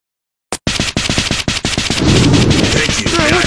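Rapid video game gunfire, loud and close, with sharp automatic bursts in quick succession that blur into a dense sustained roar of shots toward the end.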